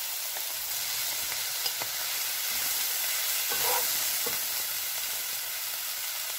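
Steady loud sizzle of chicken being stir-fried in a hot pan for vegetable fried rice, continuous hiss with occasional soft clicks of a spatula, no voices.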